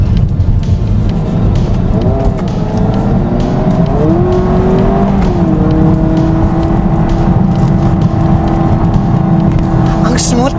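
A 2026 Honda Prelude in Sport Plus mode pulls steadily from inside the cabin, its engine tone rising and stepping through smooth gear shifts over constant road noise, with no one speaking.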